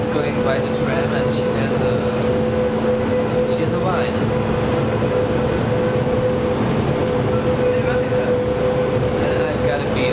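A city tram rolls along its tracks, giving a steady, close rumble with humming tones and occasional squeaks, while people talk over it throughout.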